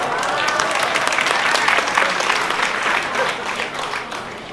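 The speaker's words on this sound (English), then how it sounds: "Please give her a hand of applause for her perseverance, tolerance, and tenacity." Audience at a launching celebration gives a warm round of applause, many hands clapping together in a thick steady roar that tapers slightly toward the end, with a few faint voices underneath.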